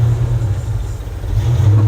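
Engine of a 1971 Chevrolet C10 pickup rumbling steadily while driving on the road, a close, continuous low drone with no talking.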